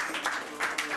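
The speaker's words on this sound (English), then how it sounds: "Let's give God a clap." A church congregation claps together in a steady, dense patter of applause, fairly close and sustained throughout.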